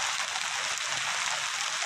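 Rain falling beside a large river in the forest, a soft constant hiss of drops, fairly even and steady throughout without talk.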